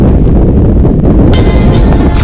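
Loud, continuous mountain wind in Pirin buffeting the microphone with heavy low-end rumble, getting harsher and brighter partway through.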